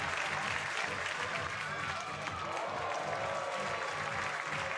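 Crowd applauding a long jump at an outdoor track meet, steady clapping and cheer from spectators trackside, sustained and moderately distant, with a voice speaking over the applause.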